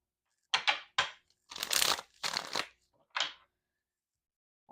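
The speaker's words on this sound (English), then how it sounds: "one more shuffle" Tarot cards being shuffled in several short, close bursts of riffling and sliding, separated by brief pauses, fairly quiet and heard on their own.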